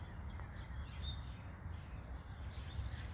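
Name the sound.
finch chirping in a backyard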